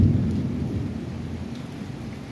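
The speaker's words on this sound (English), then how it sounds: "I'm gonna let you guys enjoy the storm." Late-summer thunderstorm with a deep, loud roll of thunder rumbling near and gradually fading, over steady rain falling on plants and surfaces, with no voices.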